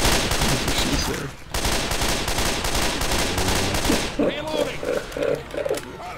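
Dense automatic gunfire and shotgun blasts fill a round of Left 4 Dead 2 co-op play, continuous and loud throughout, with a voice shouting over the shooting.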